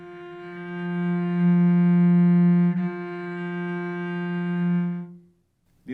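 A single sustained cello note bowed with a rich, buzzy tone, held steadily for several seconds with a brief bow change midway before fading out.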